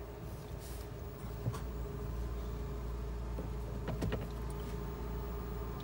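Electric window motor whirring inside a Fiat 500 1.2 Lounge, a steady low hum with a couple of brief clicks near the start and toward the end, close and fairly quiet.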